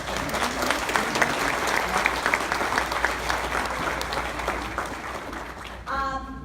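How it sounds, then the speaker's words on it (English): Sustained audience applause for Ralph White at a retirees' association annual meeting, dense and steady throughout before breaking off near the end into a brief burst of something else. "So I want another round of applause for Ralph White."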